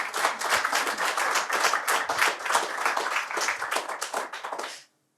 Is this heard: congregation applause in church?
yes